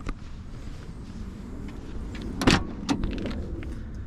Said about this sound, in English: Really good shut noise.